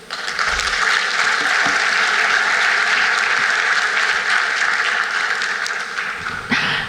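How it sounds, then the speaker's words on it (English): Loud, sustained applause from an audience after an investment presentation, steady for several seconds before tapering slightly at the end. "That deserves another round of applause."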